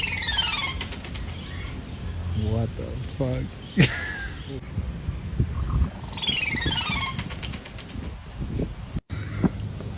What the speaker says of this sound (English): Y'all, please listen to this fucking bird.